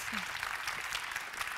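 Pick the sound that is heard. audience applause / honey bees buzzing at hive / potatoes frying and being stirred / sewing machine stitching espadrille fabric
audience applause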